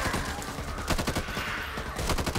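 Rapid automatic gunfire from the video game Back 4 Blood crackles in dense, continuous bursts, loud and close throughout with no pauses.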